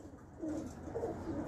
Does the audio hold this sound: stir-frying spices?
no